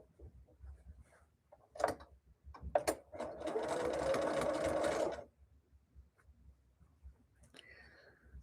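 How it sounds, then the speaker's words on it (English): Sewing machine stitching around all four edges of quilt blocks in a quiet room, a steady loud whirring run of about two seconds after a few brief clicks and handling sounds, then stopping. "I'm sewing around the edge on these on all four sides to make these blocks"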